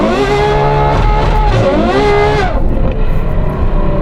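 A Novitec Ferrari 812 N-Largo S engine revs hard out on an open road, loud and close, its pitch climbing and falling through sustained harmonic wails before dropping to a lower steady drone.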